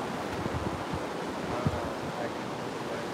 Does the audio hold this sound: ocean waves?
yes